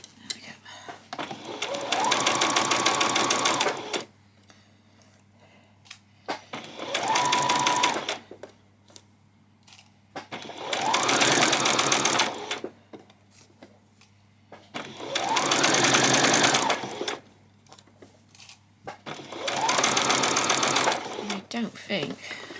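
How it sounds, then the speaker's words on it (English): A sewing machine stitches a back stitch on a peasant skirt, running in five steady whirring bursts of about three seconds each, separated by quiet pauses, close and loud. "I'm going to do a back stitch, and then another back stitch"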